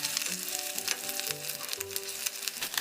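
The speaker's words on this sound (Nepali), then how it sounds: "अब यो तोरीको दाना पटपट फुलिसकेपछि मैले प्याज हाले" Mustard seeds, onion, ginger-garlic paste and two dried chilies fry in oil for a Nepali veg dish, giving a steady close sizzle with scattered crackles and pops and brief stirring tones, no voices.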